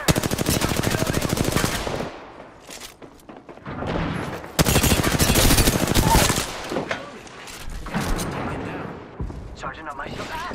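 Rapid gunfire from the video game Apex Legends, loud bursts of automatic fire and shots in close succession, mixed with shouted team callouts and game effects.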